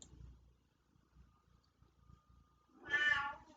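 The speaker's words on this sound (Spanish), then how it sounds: "ya están escuchando a mi gato" A female house cat meows once, a single clear cry near the end, heard faintly indoors after a stretch of quiet low background noise.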